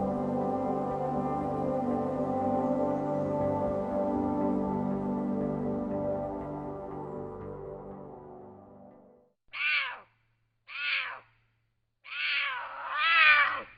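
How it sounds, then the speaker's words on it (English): A mountain lion gives a long, harmonic, wailing cry that fades out, then three shorter, sharp, yowling calls in quick succession. The calls are close and clear against silence. "Mountain lions are the biggest cats on the North American continent."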